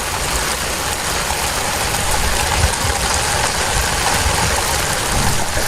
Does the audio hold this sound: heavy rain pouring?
yes